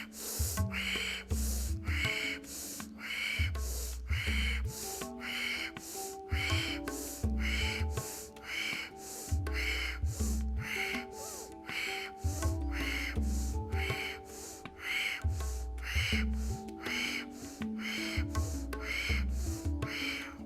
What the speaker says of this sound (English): Let's do 20 rapid Ujjayi breaths.